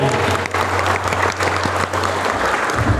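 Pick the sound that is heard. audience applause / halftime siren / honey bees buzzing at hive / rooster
audience applause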